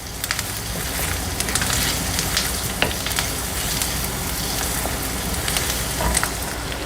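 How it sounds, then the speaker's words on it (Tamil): Garlic cloves sautéing with half-cooked onions in a pan give a dense, steady crackling sizzle, close and fairly loud, with a few brief spatula clicks and no voices. "அதில் நம்ம இப்போது பூண்டு பற்களை சேர்த்துக்கலாம். அதை கொஞ்சம் சேர்த்து வதக்கிடலாம்."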